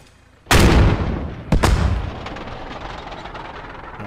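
PIAT anti-tank weapon firing in the Post Scriptum war game, a loud sharp blast followed by a second bang and a long rumbling decay, alone without talk.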